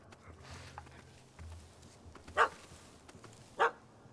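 Dog barking in The Witcher 3 video game: two loud, sharp barks about a second apart stand out over quieter game ambience and low rumbling.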